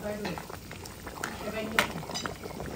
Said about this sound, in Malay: Bawang merah, bawang putih, halia. Tu tumis sekali dengan lengkuas dan serai.